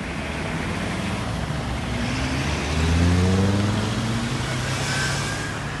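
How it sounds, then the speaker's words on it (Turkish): Road traffic passing a railway level crossing late at night, with a steady roadway rumble and one vehicle's engine swelling closer and louder midway before fading again. "Trafik akmaya devam ediyor."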